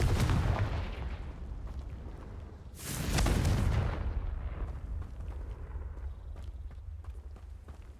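The Confringo blasting curse exploding in the Hogwarts Legacy video game, one deep booming blast with a crackling burst that fades into scattered debris and rumble, loud and close.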